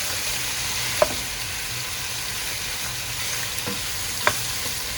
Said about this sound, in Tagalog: Keep frying pa yan. Hanggang sa mag-golden brown yung mga karne niya.